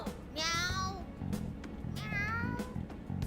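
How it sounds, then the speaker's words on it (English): A cat in the video game Persona 5 Strikers lets out two loud, drawn-out meows, the second after a brief pause, over a low steady background hum. "That sure is a noisy cat."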